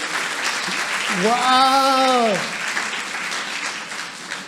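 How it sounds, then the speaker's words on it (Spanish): Church congregation applauding during a pastor's sermon, a continuous wash of clapping from the crowd while a voice exclaims loudly over it midway. "Un aplauso para ellos"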